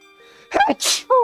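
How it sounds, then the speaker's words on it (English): A single loud human sneeze, with a sharp intake and then an explosive burst, close to the microphone, set between brief murmured vocal sounds. "Achoo!"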